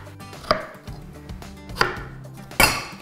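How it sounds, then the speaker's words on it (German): Three sharp knife chops on a board cutting frozen strawberries into small pieces, close and distinct with pauses between, over a faint background hum and no talk. "Das schneiden wir jetzt in Stücke. In kleine, feine."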